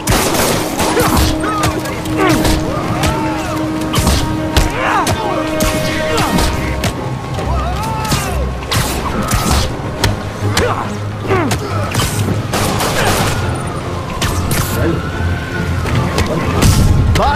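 Gunfire during a Spider-Man PS4 game fight, a dense stretch of shots, hits and thuds running throughout under a steady game score, with some speech mixed in.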